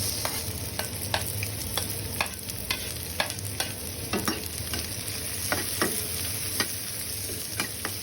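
Onions frying in a pan, a constant low sizzle broken by repeated sharp scrapes and taps of a spoon stirring at an even rhythm, close up and without speech.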